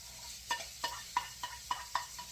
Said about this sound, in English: hit it with the whisk.